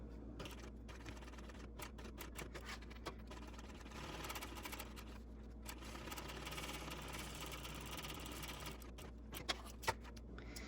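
A sewing machine sews long basting stitches around a fabric piece for a shoulder bag, a faint, steady mechanical whir with soft ticking, heard close but quiet throughout.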